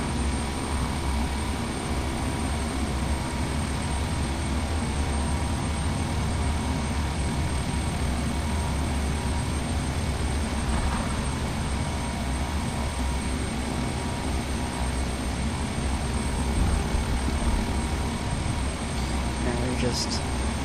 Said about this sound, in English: Now we're just taxiing our way into our gate